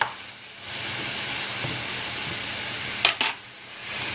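Chicken pieces sauté in a hot pan with a steady, close sizzle and hiss, while a utensil stirs them and scrapes the pan twice near the end.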